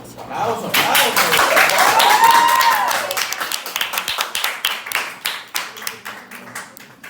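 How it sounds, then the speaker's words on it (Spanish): An audience applauds after a biophysics class presentation, clapping loudly and densely at first, with cheering voices, then thinning into scattered, distinct claps near the end. "¡Aplausos, aplausos!"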